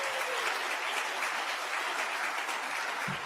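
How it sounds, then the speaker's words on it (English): An audience at the opening session of an international human rights summit gives sustained applause, a dense, steady wash of clapping that holds at an even level throughout. "Let's give her another round of applause for her incredible work."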